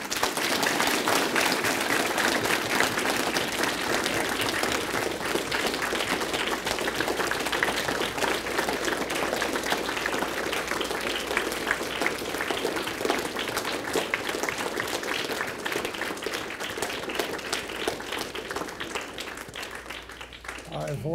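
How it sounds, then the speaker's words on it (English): Sustained audience applause after a Holocaust survivor's talk, dense steady clapping from a large crowd continuing for about twenty seconds before tapering slightly at the end. "Ladies and gentlemen, if you could give us a round of applause."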